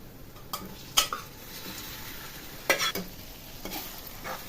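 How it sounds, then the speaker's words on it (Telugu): Cooking noises as fish is added to frying onions in a pan: a faint steady sizzle broken by a few sharp clinks and scrapes of stirring, with no voices. "ఇప్పుడు ఇందులో చేపలు వేసేద్దాము."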